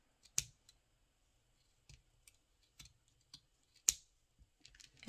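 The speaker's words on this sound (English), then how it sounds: "So I'm just going to go here and I'm going to snip across." Scissors snip across the yarn fringe of a crocheted tassel in a series of soft, sharp clicks. The cuts are spaced irregularly and heard close up in a quiet room.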